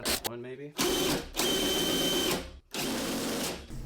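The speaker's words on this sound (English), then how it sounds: "So now we're going to replace that with the drill with the same setup on the CVT transmission" A cordless drill spins up in whirring bursts while driving the CVT belt on a wagon, its motor whine rising and falling through several runs with short pauses and mechanical rattling between them.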